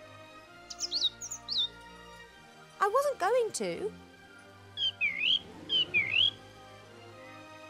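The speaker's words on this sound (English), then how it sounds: "The bird is annoying," A bird in The Book of Unwritten Tales 2 video game chirps in short, bright whistled phrases: a few at the start, then more near the end. Someone speaks briefly in the middle, between the chirps.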